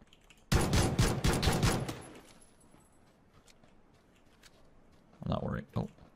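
In the video game PUBG, a gun fires a rapid, loud volley of close shots lasting about a second and a half. Quieter game sounds follow, then someone speaks briefly near the end.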